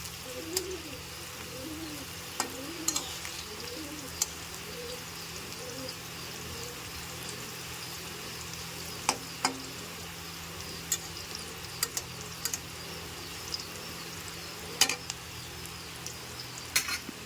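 Food sizzles steadily while being fried and stirred in a home kitchen pan, with occasional spoon clicks and pigeons cooing in the background.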